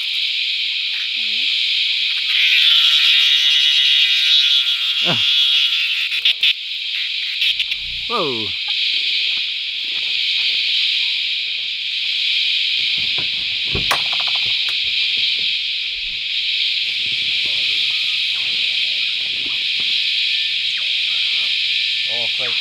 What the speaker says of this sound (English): These are the cicadas, there's thousands of these up in the trees and they're responsible for making that constant deafening noise.